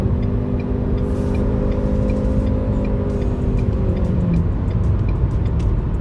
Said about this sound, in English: I just went from, you know, about 50 miles per hour to 70 miles per hour. Passed 3 cars, did it quickly, did it efficiently.